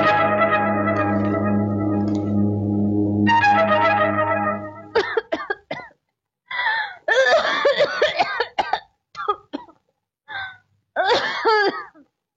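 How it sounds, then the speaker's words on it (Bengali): An elderly mother coughs in a Bengali film scene. A sustained tonal drone comes first, then a series of sharp, irregular coughing bursts with short pauses between them. "হঠাৎ তোমার কাশি বেড়ে উঠলো কেন?"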